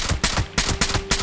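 A non-automatic rifle fires in the video game Fallout 76: around five loud, sharp shots in quick succession, each a hard crack with a brief tail, with no speech.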